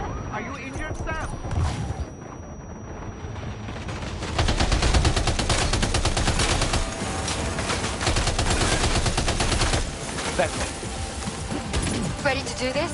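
Dense gunfire in the Death Stranding 2 game, rapid bursts and volleys of shots that swell into a loud sustained barrage midway, with voices speaking over parts of it.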